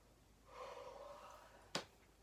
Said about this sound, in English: I got a case of the yawns.